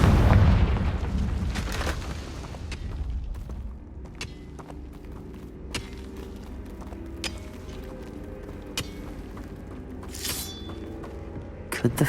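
The Confringo spell in Hogwarts Legacy goes off with a heavy booming blast, followed by a long tail of crackling debris pops and small scattered impacts.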